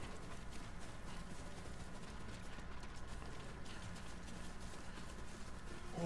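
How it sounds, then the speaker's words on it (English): Horses gallop in the video game Ghost of Tsushima: a steady, dense patter of hoofbeats runs unbroken for several seconds, close and even, with no talk over it. "Horses, they're coming for us."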